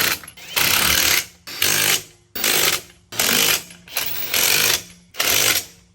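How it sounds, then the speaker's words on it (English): A pneumatic impact wrench drives lug nuts onto a 22x12 wheel on a 2022 GMC Sierra pickup: seven loud, evenly spaced bursts of rattling hammering, each cut off by a short pause, close by with no talk. "Let's bolt her on."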